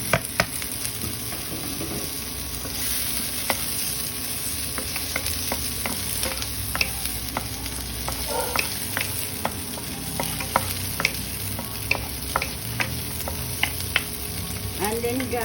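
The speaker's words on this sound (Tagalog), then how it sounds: "saute the garlic. Then the onions, the tomatoes, and the chilies." Garlic, onions, tomatoes and chilies sautéing in a pan for ground beef with bitter melon, with a steady close sizzle and frequent sharp clicks and scrapes of a utensil stirring against the pan throughout.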